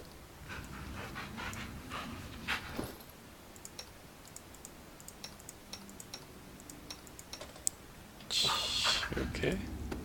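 A video game dog companion pants in quick rhythmic breaths amid light clicking, with a brief louder burst near the end and a person talking over it.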